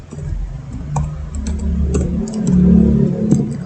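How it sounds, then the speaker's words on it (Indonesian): Keys on a computer keyboard click in quick irregular bursts as a database command is typed, close and fairly loud over a low background hum. "dengan mengetik perintah use spasi db sistem"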